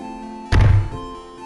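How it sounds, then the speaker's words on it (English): One dull, solid thud from a person landing a backflip on the ground. It is brief and fairly close, then fades into quiet room tone. "That was the sound of me hitting a perfect backflip."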